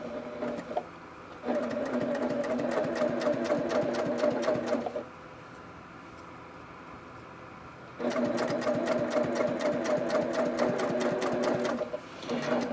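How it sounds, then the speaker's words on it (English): A sewing machine stitches along the edge of a fabric quilt block in two long, steady rapid runs separated by a short pause, close and clear, with the motor's rhythmic clatter. "I'm just running that stitch right along the edge."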